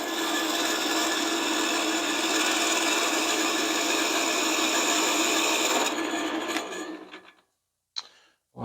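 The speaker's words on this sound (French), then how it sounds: "donc j'ai affûté avec un angle de 45" A woodworking gouge is ground to a 45-degree bevel on a sparking grinder. The steady, loud rasping grind runs for about six seconds, then fades and stops, followed by a brief faint tap.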